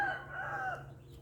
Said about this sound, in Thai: ได้ยินเสียงไก่ร้องขัน